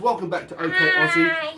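A cat meows in a long, drawn-out cry right beside people who are talking in a home on a Sunday morning.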